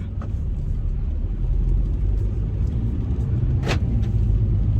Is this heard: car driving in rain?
yes